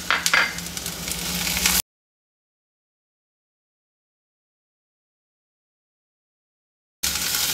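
Sizzling and frying of vegetables with tomato and capsicum in a pan while making a paneer kathi roll, steady and close, cut into two short bursts separated by a long silent gap.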